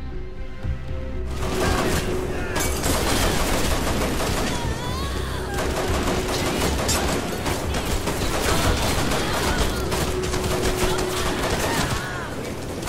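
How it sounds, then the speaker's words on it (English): Loud, dense gunfire from the video game Hatred: rapid overlapping shots and bursts rattle on without pause for the whole stretch, with game effects layered beneath. "All I'm basically doing is just crouching and shooting."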